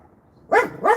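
A dog gives two loud, close barks in quick succession after a short quiet stretch; the animal is a female that barks only at certain people.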